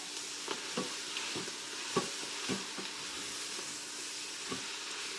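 Kale being stirred in a pot, with soft scraping strokes at an uneven rhythm over a steady low sizzle, close and fairly quiet.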